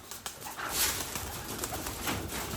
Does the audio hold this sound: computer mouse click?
no